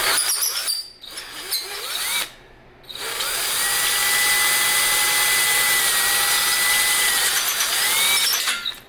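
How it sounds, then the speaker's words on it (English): A power drill whines steadily into a metal engine block, loud and close, with brief pauses before settling into one long continuous grinding run. "So we're gonna try to drill this thing a little bit."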